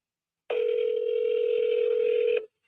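A single steady telephone tone sounds alone for about two seconds during a cold call to a cash buyer, then cuts off cleanly, with no voices over it.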